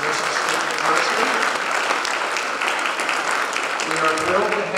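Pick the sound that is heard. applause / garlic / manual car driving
applause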